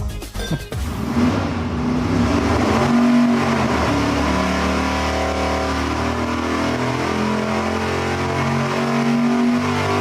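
An engine fitted with headers whose collector tubes have been shortened to 40 inches roars loudly and steadily at full power. It catches with a brief rough burst and then holds a dense, sustained drone for about ten seconds, with no talk over it.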